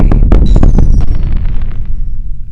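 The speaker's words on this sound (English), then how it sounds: "You drop it, makes a bigger explosion." A bomb blasts in the WorldBox sandbox game: a loud, booming burst with several sharp cracks in quick succession, then a rumbling decay that fades over a couple of seconds.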